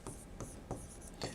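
Chalk or marker strokes on a classroom board during a biology genetics lesson. Quick scratchy strokes come in short bursts, close and continuous, with no talking.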